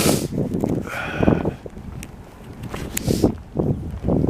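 Gusty wind buffets the microphone on an early morning walk through Old Montreal, rising and falling in low rumbling surges, with occasional rustles and footsteps between the blasts.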